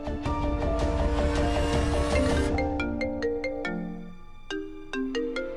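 A phone ringtone plays a bright, loud electronic melody of repeating tones that goes on without anyone answering and fills the whole stretch.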